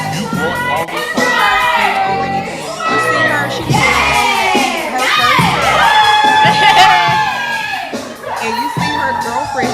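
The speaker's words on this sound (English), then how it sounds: "her girlfriend cheering her on" Girls cheer loudly at a birthday party, high excited shouts and whoops overlapping in a steady, boisterous crowd of young voices close by.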